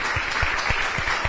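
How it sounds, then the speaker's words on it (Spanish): A church congregation applauds during a Sunday service in Mar del Plata, with a steady burst of dense clapping from many hands filling the room, with no voices over it. "Dale un fuerte aplauso al Señor."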